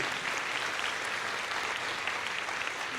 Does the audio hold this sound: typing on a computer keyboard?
no